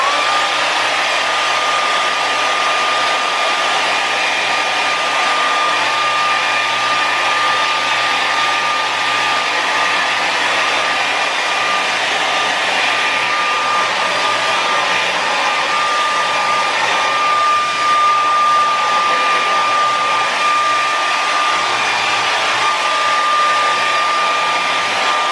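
Blow dryer used for styling hair with gel, a loud steady whirring hum with a constant high whine that runs unbroken for the whole stretch, with no talking.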